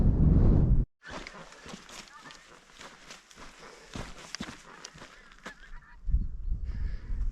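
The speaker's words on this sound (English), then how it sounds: "Some more geese." Geese honk repeatedly in scattered, overlapping calls at a moderate distance at a windy, rainy campsite, with footsteps and a brief voice breaking in near the start and end.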